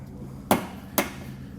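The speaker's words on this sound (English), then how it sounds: "There's a push pin fastener like this on each side of it. Just use a flathead to kind of pry" A flathead screwdriver pries a push pin fastener out of a 2022 Mazda CX-5, giving two sharp, close snaps about half a second apart over a quiet background.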